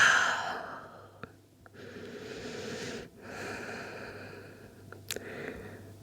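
Slow, audible breaths close by: inhaling through the nose, then a long, airy exhale through the mouth, repeated in a calm, steady rhythm.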